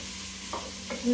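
Brief sizzle of shallot sautéing in a pan, with two short scraping stirs and a soft rising hiss at the end, close and alone.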